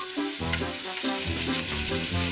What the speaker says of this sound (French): la poudre 5 épices que j'éteins et je mélange le tout pour le faire revenir sur tous les côtés